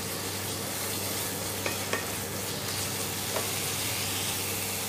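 Carrot halwa stirred in ghee over medium heat, a steady soft scraping and low sizzle running evenly throughout, with a few faint clicks of the spoon against the pan.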